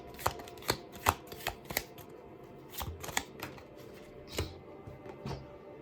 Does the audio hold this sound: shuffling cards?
yes